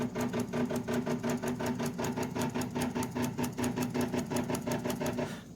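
A Sienci Mill One desktop CNC mill jogging up on its Z axis, a steady close motor buzz with rapid regular pulsing, like a sewing machine, continuing throughout.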